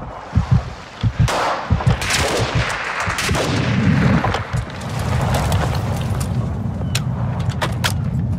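Gunfire in Call of Duty DMZ: a cluster of loud, sharp shots early on, then a rumbling barrage of distant shots and blasts continuing throughout.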